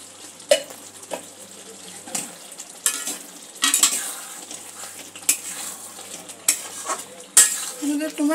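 Spoon scraping and stirring tomato chicken in a pan, irregular clinks and scrapes over a soft sizzle, close up with no talking.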